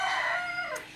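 A rooster weighing 3.2 kilos gives a single short crow, loud and close, its call rising and then trailing off within about a second.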